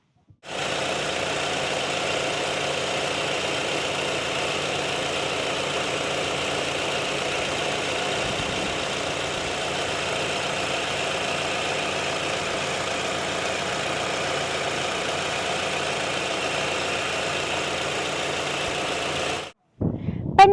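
A Mitsubishi Space Wagon 2.4 GT MIVEC engine idles steadily for about twenty seconds, a constant low hum with a faint rattling texture, then cuts off abruptly near the end.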